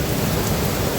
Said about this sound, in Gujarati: એક ધારો વરસાદ